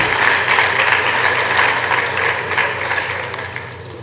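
An audience at an official gathering of Benin's physical education staff applauds itself, producing a dense, sustained clatter of many hands clapping that gradually thins toward the end.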